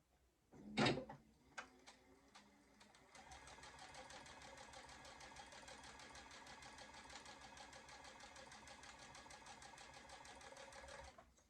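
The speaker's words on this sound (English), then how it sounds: "we're just going to sew a 1/4 inch seam allowance down that one side" A sewing machine sews a quarter-inch seam along a quilt block. A few clunks and taps come first, then the machine runs in a steady, close, even whir for most of the stretch before stopping.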